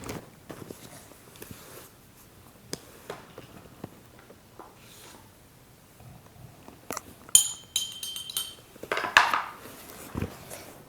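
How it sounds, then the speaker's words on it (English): During a preschool listening game, a spoon taps a glass in a few scattered sharp clinks, with a brighter cluster of ringing taps near the end and soft handling knocks in between in a quiet room. "Were you tapping the spoon in the glass?"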